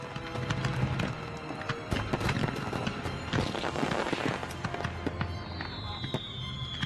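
Dense crackling and booming bursts of a fireworks display by a Finnish company, continuous and loud, with crowd voices mixed in and a high whistling streak near the end.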